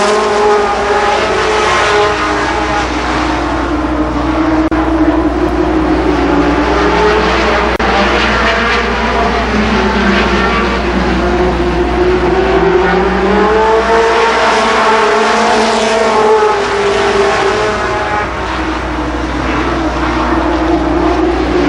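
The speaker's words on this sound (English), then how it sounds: "Dean and Maynard lead the field around 10 laps for the first heat race." Sprint cars lap Columbus Motor Speedway in a heat race, a loud, continuous engine roar that swells and fades as the field passes, with no talk.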